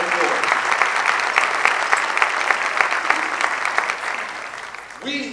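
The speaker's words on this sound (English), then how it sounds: "Let's give Madeline Marquez a strong round of" An audience at a Bronx borough president's State of the Borough address breaks into dense, sustained applause that fades toward the end as a voice begins speaking.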